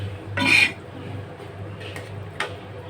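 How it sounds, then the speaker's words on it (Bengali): Fried eggplant is tipped into a pot of boiling koi fish curry, giving one brief, close clatter of pieces and utensil against the pot. Faint clicks follow over a low background. "এখন আমি এই যে বেগুনগুলো ভেজে রেখেছিলাম এগুলো দিয়ে দিব।"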